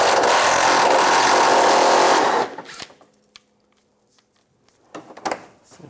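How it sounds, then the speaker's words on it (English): Power ratchet or driver spinning out bolts with a 10mm socket on a 2004-2009 Toyota Prius grille, a loud steady whir for about two seconds, then quiet with scattered clinks and handling taps. "Using a 10mm socket, take these bolts out."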